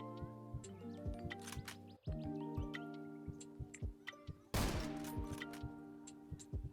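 Gun reloading in the top-down shooter Zero Sievert, a run of quick mechanical clicks and ticks over steady tonal game music, with a brief burst of noisier clatter midway.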